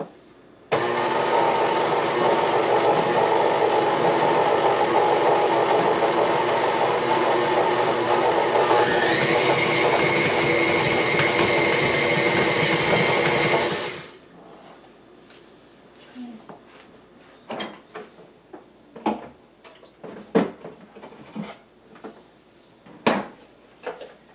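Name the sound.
mixing whoopie pie batter ingredients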